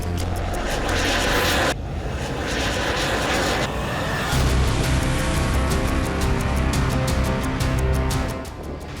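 Roaring aircraft engine noise, continuous and loud throughout, with sharp changes in intensity, consistent with fighter jets passing; no voices heard.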